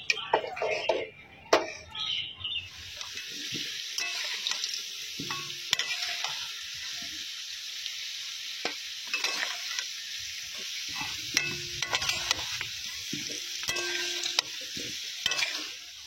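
Potatoes frying and being stirred in a pan for a home-cooked chicken curry: a steady, loud sizzle runs throughout, broken by frequent scraping stir strokes and a few sharp clacks, with no talking.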